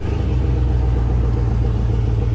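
A supercharged engine in a stock 5.3 Chevy four-door truck, built to around 700 horsepower, rumbles at a steady idle at a car and truck show, a deep, even, close throb with no talk over it.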